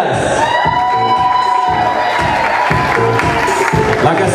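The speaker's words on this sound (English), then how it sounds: "a big round of applause, ladies and gentlemen" Wedding reception guests cheering, whooping and clapping together as a couple is introduced, a loud continuous crowd roar with a steady tone held through it.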